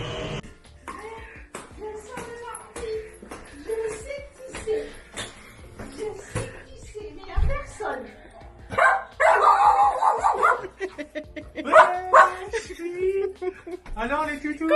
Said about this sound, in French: Alors les toutous